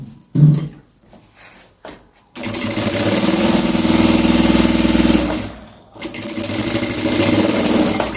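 A sewing machine stitching darts into fabric for a straight pencil gown: after a few quiet clicks, two loud, fast, even runs of rattling stitching separated by a short pause.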